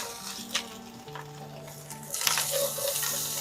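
Aromatics and galangal sizzle with shrimp shells in a hot pan, a crackling fry with bursts of stirring and scraping, close up and quiet apart from a faint tonal hum underneath.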